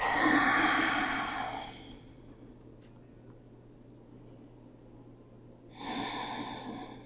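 Two long, deep breaths, slow airy exhalations in a yoga child's pose, close and clear, separated by a quiet pause with faint room hum.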